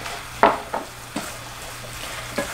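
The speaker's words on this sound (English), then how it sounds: "So we're going to keep on mixing and mixing and mixing." Eggs stirred in a hot pan for scrambled eggs, a low hiss beneath a few sharp scraping taps of a utensil against the pan, close by and sparse.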